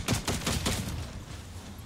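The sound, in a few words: gunfire in a video game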